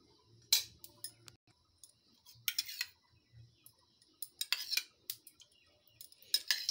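A large spoon clinking against a kadhai on a gas stove while oil is measured in, a series of sharp scattered metallic clicks and taps, close and otherwise quiet.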